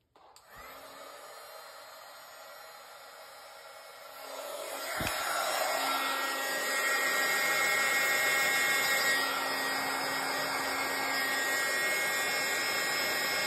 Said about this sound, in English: Now I have my heat tool sitting on the floor here, so I'm just going to warm this up.